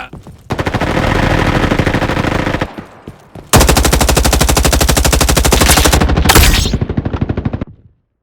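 Video game machine gun fire, two long loud rapid bursts close up, the second trailing off into a few separate shots.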